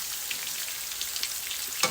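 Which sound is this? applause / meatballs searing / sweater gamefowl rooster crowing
meatballs searing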